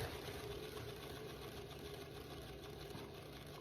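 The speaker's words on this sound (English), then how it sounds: "I'm going to take my spinner gently and spin" A paint spinner turning an abstract round pour painting, giving a steady, even motor whir and hum that holds unchanged throughout, close by with no voices.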